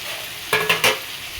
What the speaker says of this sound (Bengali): এবার এটাকে ভালো করে নাড়াচাড়া করে ভাজা ভাজা করতে হবে